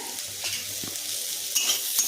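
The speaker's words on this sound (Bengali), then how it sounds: "কাল্লা আলু আমার ভাজা ভাজা হয়ে গেছে" Potato pieces fry in a pan with a soft, steady sizzle and occasional stirring scrapes over about two seconds, with no talking.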